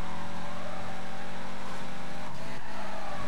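A Subaru WRX race car in Need for Speed Carbon roars with a loud, steady engine drone throughout, racing an Evo with faint tire noise and no talk.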